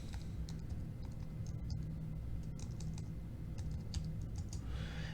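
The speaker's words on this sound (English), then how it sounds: "This time I'm going to type in bathroom." Typing on a computer keyboard, with a run of quiet key clicks at an irregular pace, close and faint over a low background hum.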